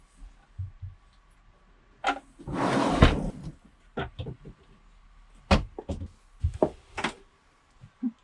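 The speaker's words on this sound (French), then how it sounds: "les toilettes sèches qui sont en fait ici, dans ce petit rangement, donc avec une porte étanche" A watertight resin-treated door on the dry toilet cabinet inside a camper van, handled in a series of close knocks, thuds and latch clicks, with a longer rustling slide near the start.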